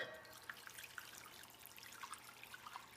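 Broth made from two bouillon cubes dissolved in water poured into a pot roast cooking in a Char-Griller Akorn grill, a faint continuous liquid trickle and splash with soft drips, steady throughout with no talking.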